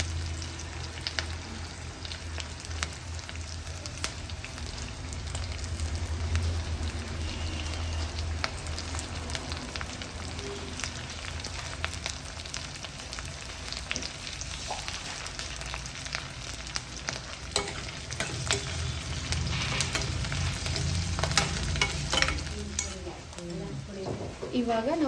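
Curry leaves fry in hot oil in a pan, giving a steady sizzle with occasional stirring clinks of utensil against the pan, continuing at moderate volume throughout.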